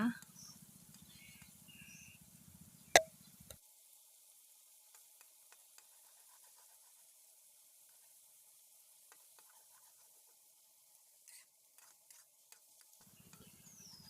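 A faint, steady sizzle of egg and pork stir-frying in a pan, with occasional light scrapes and clicks of stirring.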